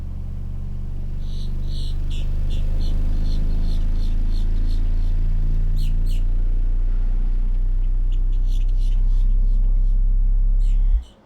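A car audio subwoofer inside a vehicle plays a steady, very deep bass tone around 27 hertz, a loud continuous rumble with faint rattles, cutting off abruptly at the end.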